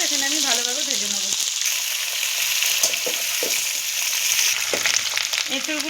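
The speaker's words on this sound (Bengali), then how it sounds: "এঁচোড়গুলোকে এখানে আমি ভালোভাবে ভেজে নেবো।" Young jackfruit pieces frying in hot oil give a steady, bright sizzle that fills the whole stretch, with a person talking over it at the start and end.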